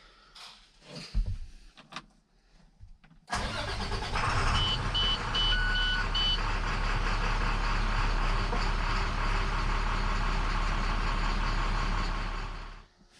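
A 2008 International MaxxForce DT diesel truck engine, just fitted with new cam and crank sensors, cranks and starts, then idles loud and steady nearby with a brief beeping tone, before cutting off at the end.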